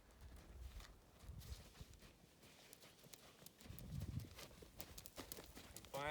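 Horse hooves clip-clopping in a steady trotting rhythm while working on a circle, moderately close, with a louder flurry of hoofbeats near the end and faint background noise.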